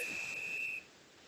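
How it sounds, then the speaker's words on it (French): A single long, shrill whistle blast sounds for a bit under a second to mark the end of a first half, steady and clear, then cuts off into faint background hiss. "C'est le moment de siffler la fin de la première mi-temps de ce Culture Sang et Or."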